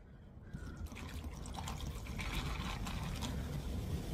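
Zero sugar drink pours over ice into a bag, a steady liquid stream with fizzing and trickling that grows slightly fuller as it fills, close and alone.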